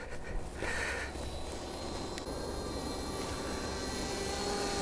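A DJI Spark drone flies outdoors on a hike, a steady high-pitched rotor whine and wind-like rush that holds evenly for several seconds with no talking.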